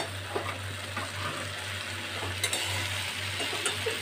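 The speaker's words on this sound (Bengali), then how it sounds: "তারপরে মশলার সাথে আলু কুমড়ো সব ভালো করে আমি কষিয়ে নেব" Potato and pumpkin fry with spices in a pan, giving a steady sizzle broken by scraping and tapping strokes as the mixture is stirred, with a constant low hum in the background.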